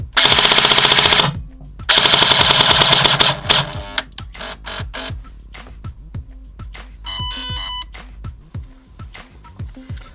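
An airsoft replica's motor, controlled by a Titan V3 MOSFET, fires two fast full-auto bursts, followed by a run of single clicking shots and brief electronic beeps, close and sharp.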